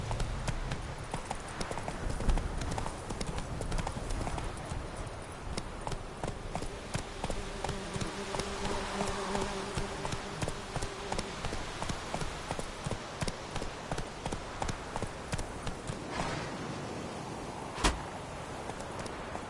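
Steady horse hoofbeats galloping in The Witcher 3 video game, a continuous rhythmic clip-clop at close range, loud and unbroken for the whole stretch, with no talking over it.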